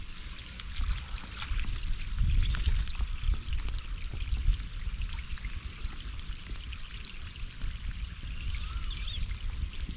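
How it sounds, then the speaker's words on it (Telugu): Rain falling outdoors at the Sarala Sagar reservoir during cast net fishing: a steady, fairly faint wash of noise dotted with small drop ticks, continuing for the full stretch with no voices. "వర్షం పడుతుంది"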